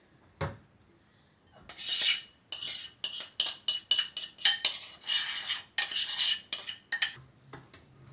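Cocoa powder and egg mixture are stirred in a bowl, producing a quick run of close metallic scrapes and clinks of a utensil against the bowl after a brief pause, steady and rhythmic, with no talking.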